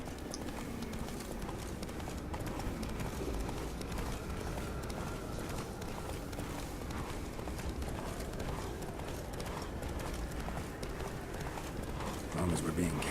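Roach the horse galloping in The Witcher 3, a fast continuous run of hoofbeats that stays close and steady, with characters talking over the hooves throughout.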